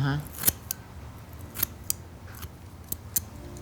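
Scissors snip through donut-shaped hair padding in several crisp, separate cuts at close range, with quiet background murmur between the snips.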